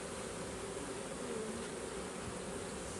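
Dense, steady buzzing of many honey bees at an open hive during a beekeeper's inspection, close and continuous with no talk over it.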